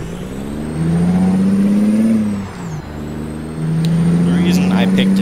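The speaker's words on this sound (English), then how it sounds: "put her in third gear, release the parking brake, and go" A Kenworth T800 truck in American Truck Simulator pulls away in third gear, its engine droning with a rising then falling pitch, loud and steady, with a brief dip as revs drop before climbing again.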